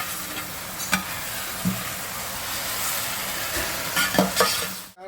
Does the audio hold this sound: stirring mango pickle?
yes